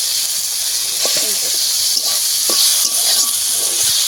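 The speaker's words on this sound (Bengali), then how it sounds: "টমেটোও ভালো করে ভেজে দেবো ঠিক এইভাবে নেড়ে চেড়ে ভালো করে মিশিয়ে নিয়েছি" Steady broadband sizzling of tomatoes frying in a pan, with a few soft scrapes and clinks from stirring, fairly close.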